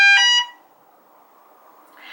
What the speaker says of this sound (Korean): 보시면 알람이 울렸는데